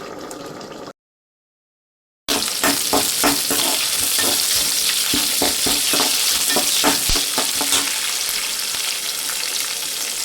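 Tempering spices sizzle in hot oil for palak rice, a loud, dense crackle that starts after a brief silent gap and carries on steadily with popping spatters.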